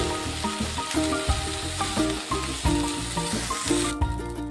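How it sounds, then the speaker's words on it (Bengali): Broccoli frying lightly in a pan gives a steady sizzle with repeated stirring scrapes and soft clinks in a fairly close, even rhythm, with no talking. "ব্রকলিগুলো হালকা ভাজা হয়ে গেছে এবারে নামিয়ে নেব"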